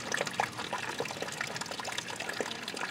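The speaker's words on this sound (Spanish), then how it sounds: "ahí nace el agua" Water bubbles and trickles out of a natural spring at Los Pozitos in Cajones, Morelos, Mexico, a close, steady gurgling flow with small splashy bursts and no voices.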